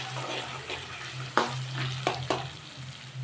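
Indian gooseberries (amla) frying in oil on a low flame for a homemade hair oil: a soft continuous sizzle with a few sharp pops and stirring clinks, close by, with no talking.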